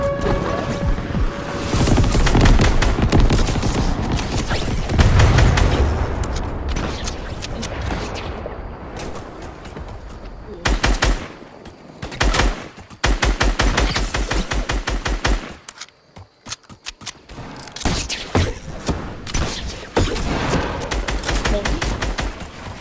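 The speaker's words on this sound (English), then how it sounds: "I'm gonna call in an airstrike." An airstrike lands in Fortnite: loud bursts of rapid gunfire and heavy explosions come in dense clusters, with a brief near-silent pause midway before more barrages.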